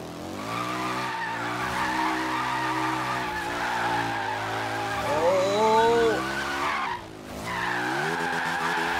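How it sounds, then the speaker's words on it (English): A little Reliant drifts around a roundabout in Forza Horizon 3, its engine droning steadily while tires squeal in long, wavering, rising screeches, briefly dipping before the buzzing engine returns. "Can we get a full drift around the circle of the roundabout in this little Reliant, man?"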